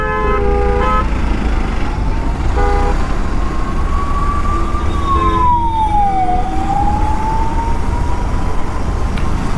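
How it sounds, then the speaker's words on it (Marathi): Vehicle horns toot in city traffic, several short honks near the start, then a long wavering siren-like tone that rises and falls, over a constant loud engine and road rumble. "हॉर्न वाजवतो तर जावं लवकर"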